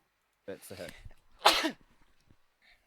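A single sharp sneeze, preceded by a short spoken phrase from someone nearby.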